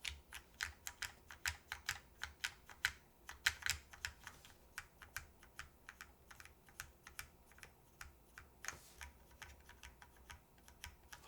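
Typing on an Etar87 mechanical keyboard with a soft, heavily isolated gasket-style mount, a steady run of close, crisp keystroke clacks with occasional brief pauses, heard alone.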